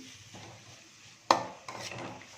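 Carrot and pumpkin are stirred in ghee in a pan, with quiet scraping and a sharp metallic clink of a spoon against the pan, followed by softer stirring clatter.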